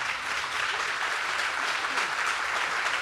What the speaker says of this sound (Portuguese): Palmas para a Martinha.